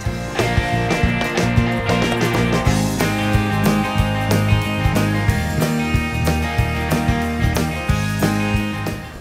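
A kitchen blender whirs loudly and steadily as it mixes apple cake batter, a close, sustained motor drone with slight pulsing and rattling of the jar, no voices.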